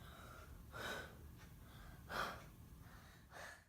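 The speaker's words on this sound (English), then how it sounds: "This is an over-exaggerated representation of a person breathing." Three slow, exaggerated human breaths come in even waves, each a loud airy inhale or exhale separated by quieter pauses, with nobody speaking.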